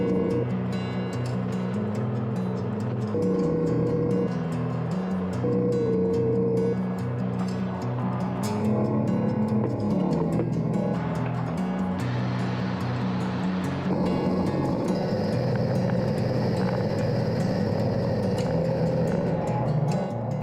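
A sawmill's hydraulics hoist an old rejected log into place: a loud, steady mechanical drone with a whining tone that shifts in pitch as the lift works, running continuously with no voices.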